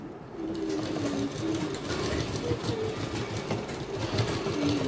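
A sewing machine runs steadily as it stitches a rounded sleeve, making a continuous, close, rhythmic mechanical chatter with no talking.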